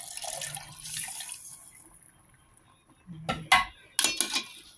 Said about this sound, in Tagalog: Dinagdagan ko po yung pangalawang gata.